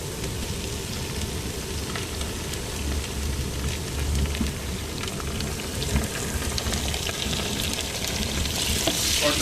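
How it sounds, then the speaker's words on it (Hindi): Garlic added to onions already frying in a pan for karry pakora sizzles and crackles steadily and close up, with a dense, rain-like hiss throughout. "और लहसुन को फ्राई करें।"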